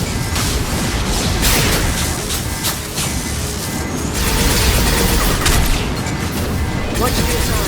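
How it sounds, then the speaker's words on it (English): Flashbang grenades going off in Mass Effect Legendary Edition amid loud combat noise, a few bursts and crashes over continuous gunfire-like clatter, with voices talking over the action. "Watch out, flashbangs."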